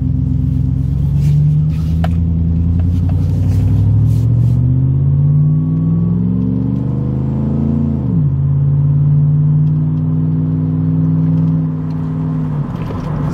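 A Chevy on 22-inch wheels with a stock TBSS cam accelerates hard, its deep engine rumble rising in pitch through a gear, dropping at a shift, then climbing again, loud and close with no talking.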